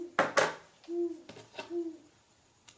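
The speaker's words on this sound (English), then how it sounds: "we have beautiful owls in our neighborhood, and you can hear them doing their hoo-hoo right now" Owls hooting outside at night in a residential neighborhood: two soft, low hoots spaced about half a second apart, preceded by a couple of brief sharper sounds, fairly faint and distant.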